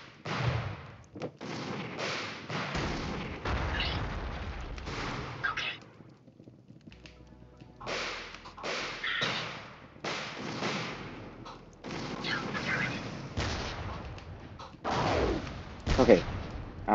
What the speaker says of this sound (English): Turned our mortar back on now.